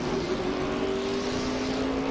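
NASCAR Truck Series race trucks, including Bobby Hamilton's and Johnny Benson's, roar around the track at the 2005 UAW-GM Ohio 250 just after a restart, a steady loud engine drone with a rising whine held throughout.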